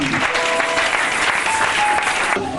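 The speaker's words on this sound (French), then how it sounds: "Acclamez très fort le Seigneur" A church congregation at a spiritual seminar bursts into loud, continuous applause mixed with cheering, a dense wash of clapping that fills the whole moment without let-up.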